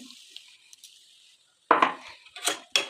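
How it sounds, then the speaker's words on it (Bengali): A utensil stirs milk and sugar in a pan, giving a few sharp metallic clinks and scrapes near the end after a quiet, faintly hissing start. "এবার আমি এটাকে নাড়াচাড়া করবো।"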